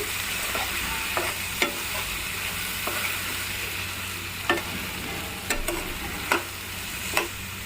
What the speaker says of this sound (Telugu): ఉల్లిపాయల్లో వేసుకోవాలి వంకాయ ముక్కలన్నీ ఒకసారి కలిసేలా కలుపుకోవాలి